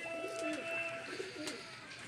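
Pigeons kept by a Faisalabad pigeon fancier coo softly in a few brief, low, throaty notes over faint background noise.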